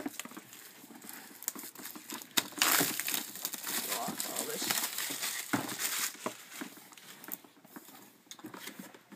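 A Western Digital 2TB FireWire 800 hard drive box is opened up close, with steady crinkling and crumpling of packaging and a few sharper tearing bursts throughout.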